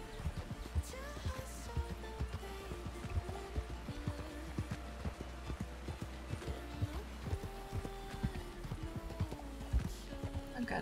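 Horse hooves clip-clop in a steady walking rhythm over a low continuous rumble, with a whinny-like tone now and then; game-like ambience.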